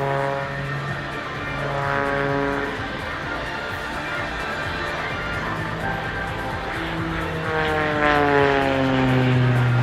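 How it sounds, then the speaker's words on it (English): A propeller aerobatic aircraft performs a torque roll at full power during the Farnborough International Airshow flying display, its engine a loud, sustained droning roar with pitch sweeping up and down as the plane rotates. "Using full power and full rudder to turn the propeller of the aircraft into a giant gyroscope."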